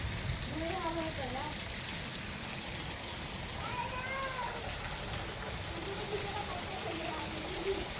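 Steady heavy rain hisses throughout over overflowing drains, a dense broadband wash with faint scattered tones and voices murmuring underneath.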